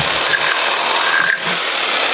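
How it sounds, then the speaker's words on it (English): A power drill whines loudly and steadily at close range as it bores through a wooden baseball bat, with a slight dip in pitch as the bit bites. "Let's drill that"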